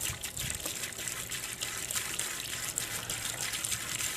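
A liquid mixture is poured down a frozen sump pump outlet pipe, giving a steady close trickling, gushing flow of water that runs for about four seconds with no talk over it.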